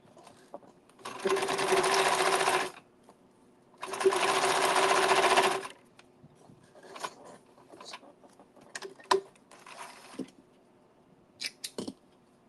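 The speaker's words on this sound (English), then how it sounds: "I am going to move the sewing machine out of the way" A sewing machine runs in two steady bursts of rapid stitching, each a couple of seconds long, followed by quieter clicks and handling noises.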